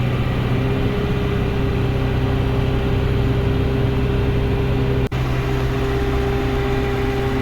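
A John Deere 6120E tractor idles steadily with its PTO engaged, a constant close engine drone with a faint whine on top and one brief click partway through.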